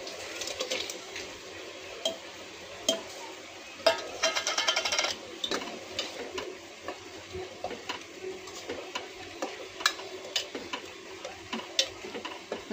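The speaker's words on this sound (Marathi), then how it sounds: "आता आपण ह्याच्यामध्ये टोमॅटो पेस्ट टाकू." Tomato paste fries with mixed vegetables in a pan for Mumbai-style pav bhaji, giving a faint, steady sizzle broken by frequent soft ticks and clinks of a spoon stirring against the metal, with one brief denser crackle partway through.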